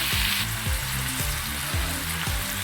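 Tomatoes and turmeric sautéing in a pan over low heat, a dense steady sizzle with rhythmic scraping strokes of a spoon repeating about twice a second, close and loud.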